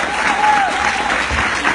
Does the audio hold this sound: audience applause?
yes